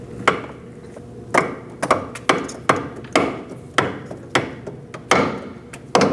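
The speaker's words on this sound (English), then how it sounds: "I'm using a rubber mallet to do that" A rubber mallet taps a control arm mounting bracket onto the shaft on a 2000-2006 Mini Cooper, giving about a dozen dull, close thuds at uneven intervals, each one fading quickly into a faint ring.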